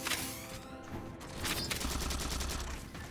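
Full-auto weapon fire in the Halo 4 campaign: rapid bursts of gunshots crackle in quick succession with booming impacts, a dense and loud game firefight without speech.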